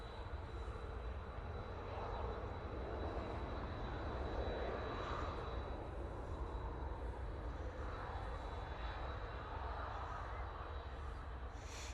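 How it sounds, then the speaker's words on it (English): A fixed-wing airliner lands at Manchester Airport, its engines a steady broad roar that holds loud and fairly close throughout with no clear talk over it. "Decent landing there, I will say."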